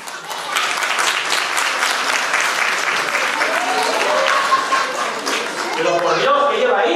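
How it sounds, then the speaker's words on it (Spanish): Crowd applause greets a guest stepping onstage at a carnival-night show, a continuous roar of clapping and cheering, loud and steady, with a host's voice rising over it toward the end. "un fuerte aplauso y que pase nuestra invitada de hoy"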